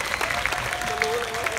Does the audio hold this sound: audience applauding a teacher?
yes